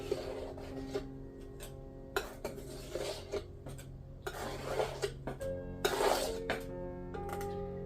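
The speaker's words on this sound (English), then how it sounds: "Let me see if I can get some of this scraped off here." A scraper drags excess poured acrylic paint off a fluid art canvas in a series of short, fairly quiet scraping strokes with pauses between them and no talking.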